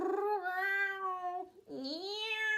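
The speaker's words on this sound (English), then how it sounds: "came the ear-splitting sound of a caterwaul symphony" Cat caterwauling in a long, wavering yowl, then a short break and a second rising yowl, loud and close.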